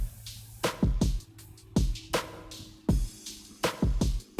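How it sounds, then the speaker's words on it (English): A drum track in an Ableton mix with no plate reverb: a dry, punchy beat of kicks and snappy snare hits in a steady rhythm, loud and alone, with no voices. "So without the reverb, it sounds like this."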